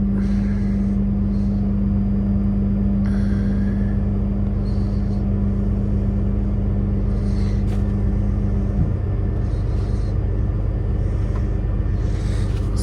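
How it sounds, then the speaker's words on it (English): Kenworth W990 truck with an MX13 engine idles at raised RPM while PTO-driven hydraulics lift the dump box, a steady loud low rumble with a sustained hum that drops off near the end. "PTO on, lift that up, and the box, she's going up."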